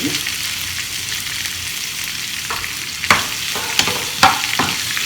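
Rasta pasta ingredients sauté in a pan with a steady close sizzle. A few sharp clinks and scrapes of stirring come near the end.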